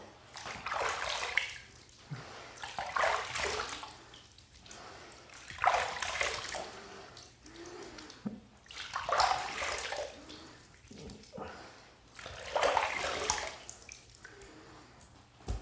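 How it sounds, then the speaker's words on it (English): Water runs into a bathroom sink while shaving cream is rinsed off a shaved head, a splashing, trickling flow that rises and falls in several soft waves with quieter gaps between them. "Let me rinse this off and start the actual rinsing process"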